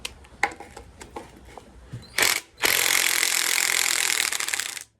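A 10 mm socket wrench loosens the oil pan bolts on a 5.7 Hemi engine at a junkyard, starting with scattered metallic clicks and then turning into a sustained, close ratcheting rasp.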